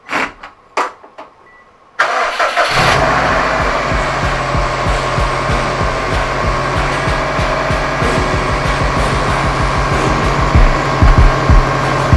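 A Subaru engine with a Perrin turbo inlet cranks and catches after a few quiet clicks, then settles into a loud, steady idle close by, running on without talk.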